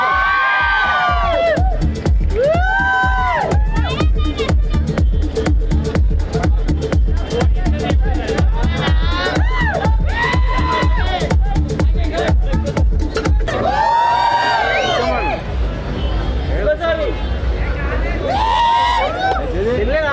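A large crowd at a store launch event in Hayatnagar, Hyderabad, cheers and whoops loudly and continuously, with shouted voices rising over a rhythmic pounding beat.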